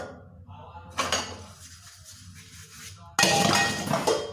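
Dishes, pots and pans being washed by hand, with metal clinks and clatters: a short rattle near the start, then a louder, denser burst of clanking near the end, close by.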